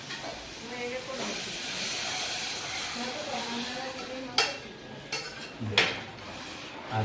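Dal poured into a hot tempering pan hisses and sizzles loudly, then settles into a steady simmer broken by sharp clanks of a metal utensil against the pot.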